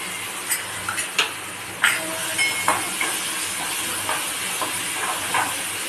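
Ground chili paste hits hot oil with roasted sesame seeds in a tempering for aloo paratha, giving a steady broadband hiss with a few sharp crackles and pops, close and uninterrupted by talk.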